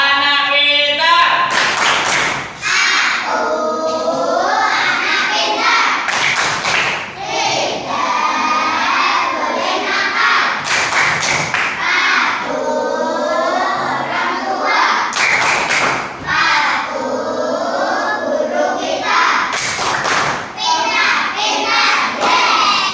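A group of children in a classroom chants loudly in unison while clapping together in a steady rhythm, with periodic heavier clap bursts marking the beat of the chant.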